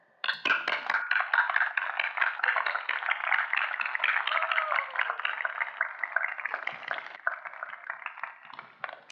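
Sustained audience applause at a Class of 2022 commencement ceremony, dense steady clapping from a large crowd that starts abruptly and carries on for about nine seconds.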